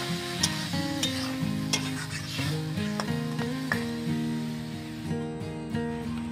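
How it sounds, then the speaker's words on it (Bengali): Spice paste, a little water and fried potatoes are stirred in a pan for a small-fish chorchori, with a gentle sizzle and repeated scraping strokes under steady background music. "এবার সব কিছু খুব ভালো করে নেড়ে নিচ্ছি।"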